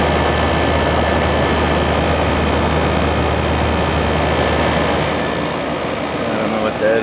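A Comfort Aire 15100 BTU window air conditioner runs with a steady low motor hum and broad fan whoosh, close and constant throughout, with a person talking over it.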